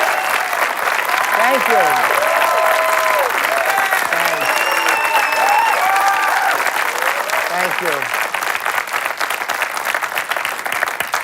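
A studio audience at a live talk show gives the host loud, sustained applause, dense clapping throughout while a voice speaks briefly over it.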